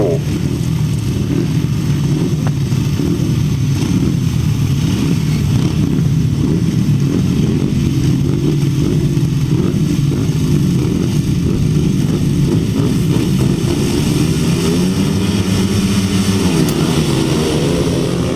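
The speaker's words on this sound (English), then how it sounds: "Race 33 on the line away with another heat of the 350s" 350cc grasstrack racing motorcycles at a race meeting, with engines droning loudly and continuously as the pack runs, a steady roar that rises and shifts in pitch over the whole stretch.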